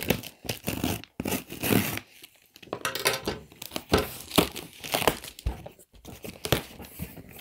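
Packing material is cut open and torn away during an unboxing of Two Notes guitar audio gear, giving close, loud crinkling, tearing and crunching bursts that stop and start over several seconds.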